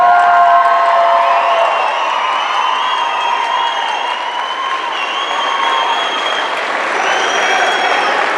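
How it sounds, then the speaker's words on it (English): Loud, sustained audience applause at an eighth-grade graduation ceremony fills the space, mixed with cheering and whistles from a large crowd. "One final round of applause."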